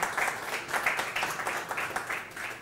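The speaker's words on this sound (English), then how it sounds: "Give him a round of applause, John" An audience at a technology conference and expo claps for someone called to the front, a brief, fairly close round of applause with a rhythmic, pulsing texture that fades slightly toward the end.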